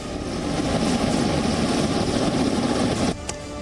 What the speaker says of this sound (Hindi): जहां टैंक गरजे तो हवा में हेलीकॉप्टर्स ने भी दुश्मनों को कांपने के लिए मजबूर करने वाली उड़ान भरी